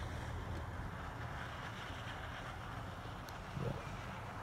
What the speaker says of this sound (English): Set my camera up and the wind blows it over.